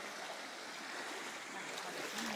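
Strong floodwater current rushing past like a river, a steady broadband wash of flowing water that holds at an even level throughout.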